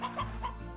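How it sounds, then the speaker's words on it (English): A chicken in the game Slime Rancher gives a few quick, close clucks in a short burst, with no talk over it. "You can have this chicken."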